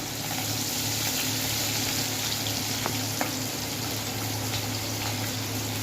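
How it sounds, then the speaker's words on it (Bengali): Black mustard and nigella seeds fry in a pan with a constant close sizzle, sprinkled with faint pops and a few sharper crackles, steady throughout with no voices. "এরপরে কালো সরিষা আমার দিয়ে দিচ্ছে, কালো জিরে দিয়ে দিচ্ছে, দিয়ে দিল কালো জিরে।"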